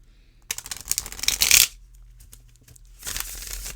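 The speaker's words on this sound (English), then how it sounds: "can I tell you how strong my hands have gotten shuffling this deck?" Tarot deck shuffled by hand: two bursts of close, rapid card riffling and flapping, the first louder and longer, separated by a quieter stretch with light handling sounds.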